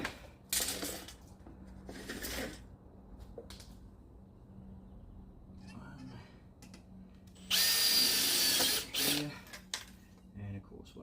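A power drill bores pilot holes for a glass sliding door track, two short whirring bursts early and a longer, louder run later, with light tapping and handling noises between and a person talking.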